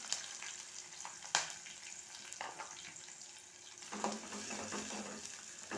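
Chopped onions fry in a pan for a potato tomato curry, with a quiet, continuous sizzle broken by scraping stirs and clinks from the spoon against the pan.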